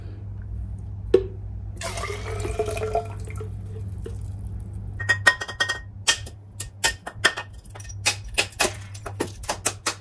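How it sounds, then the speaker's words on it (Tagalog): Water being poured off a concrete test sample: a brief splashing pour, then a run of irregular drips and small splats landing close by over a low steady hum. "Tanggalin lang natin yung tubig."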